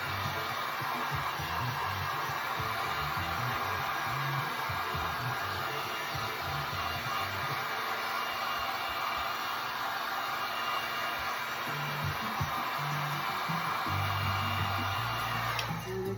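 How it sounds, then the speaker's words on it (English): Hair dryer blowing on an alcohol ink tile to dry it, a continuous loud whooshing roar that runs unbroken from start to finish with no voices. "Maybe I want to use as my hair dryer, but probably help dry it."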